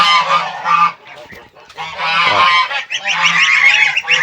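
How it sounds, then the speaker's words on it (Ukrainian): Geese honk loudly and repeatedly up close, a noisy overlapping chorus of harsh calls with a brief lull in the middle. "Гуси-гуси. Ага. Га-га-га."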